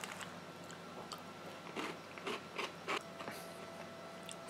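Soft crunching bites of Mornflake Chocolatey Squares cereal with milk, a handful of brief close chews spread through a quiet stretch with no talking.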